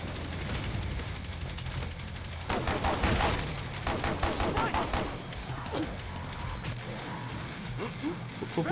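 Gunfire in the game Killing Floor 2 as the player runs and shoots backwards: dense, rapid volleys of shots crackling continuously, with a player's voice talking over the steady barrage.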